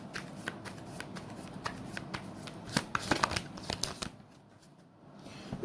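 Tarot cards shuffled close up in quick, crisp riffles and flicks, a rapid ticking flutter that swells midway and then tapers off into near quiet.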